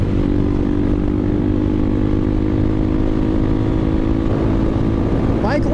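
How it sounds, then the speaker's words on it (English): A CSC TT250 motorcycle engine drones steadily and loudly throughout, a constant close-up roar as the bike rides along. "I love riding motorcycles"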